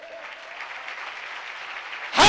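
Loud applause for Ruhul Quds from a church congregation, steady broadband clapping lasting about two seconds, then swelling sharply louder at the very end, with no voices on top.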